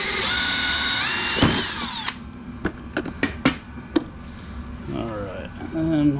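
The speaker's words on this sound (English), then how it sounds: "I'll lift this up though so I don't drill through my battery." A power drill whirs as it drills into a battery box, with a rising motor whine followed by several short sharp bursts of drilling and clicks, up close.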